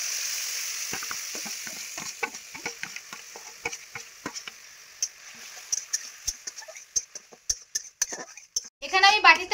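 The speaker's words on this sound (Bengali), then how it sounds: "এবার আমি বেশ কিছুটা পরিমাণ আনারসের পিউরি দিয়ে দিচ্ছি" Pineapple puree sizzles as it hits hot ghee in a wok-style pan, a steady crackle broken by frequent sharp clinks and scrapes of a spoon against the metal, with a louder bubbling burst near the end.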